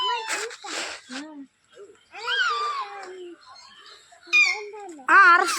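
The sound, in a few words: Alexandrine parakeet screeching at a zoo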